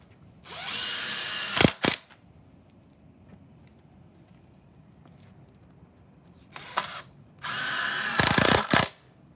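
A power drill drives a screw into the bottom of a truck bed transport cart: one loud whirring burst about a second long, a short pause, then two more bursts later with a brief stop between them. Nobody speaks.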